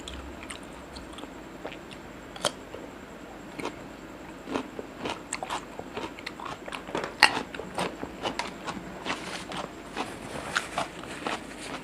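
Someone eats grilled cuttlefish with crunchy fresh vegetables, making close, irregular crunchy bites and chewing that grow denser toward the end.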